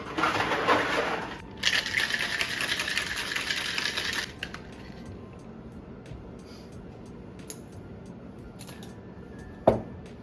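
Ice rattles and crunches inside a cocktail shaker while mixing a Blue Hawaiian, a fast, dense clatter for a few seconds that then stops, followed by quiet with a single knock.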